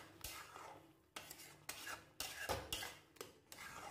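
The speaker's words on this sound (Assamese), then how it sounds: "তাৰপিছত আঞ্জাখন মই লৰাই দিলোঁ" Spoon stirring curry of taro leaves and egg in a pot, a series of soft scraping, rubbing strokes in an uneven rhythm of about seven passes, close up and quiet, with no voices.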